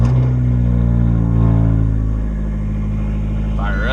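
A Fiat Abarth's engine fires up and settles into a loud, close, low rumble. The idle stays steady and even through the clip, then the tone shifts slightly near the end.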